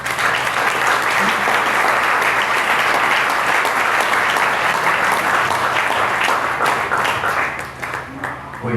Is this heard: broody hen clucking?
no